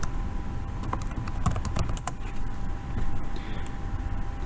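Keys tapped on a computer keyboard while entering a search, a run of soft, uneven clicks at close range against a steady background hum, with no voices.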